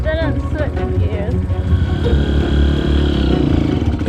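A dirt bike engine revs and drones close by, rising and falling as the rider fumbles an upshift, loud and continuous, while a person talks over it.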